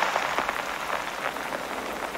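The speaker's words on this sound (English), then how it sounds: "Lots of rain and lots of wind." Heavy rain with wind in a western movie scene, a dense steady hiss of falling water and gusts, continuous and fairly loud with no talking.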